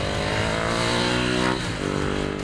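Ducati Hypermotard 950 motorcycle engine held at a loud, steady high-revving drone, close up, with a short dip in pitch midway before it climbs again.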